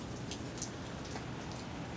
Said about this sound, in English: Look at the rain out there.